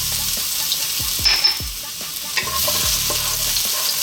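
Garlic sizzles in hot cooking oil for lumpia filling while a utensil stirs and scrapes the pan in a few distinct strokes, close and clear over a steady fry.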